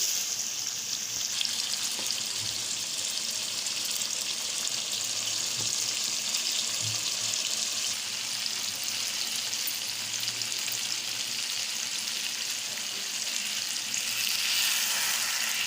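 Okra fries in a pan of tomato masala for a bhindi chicken curry, a long, steady sizzle and hiss with faint stirring knocks, close and unbroken.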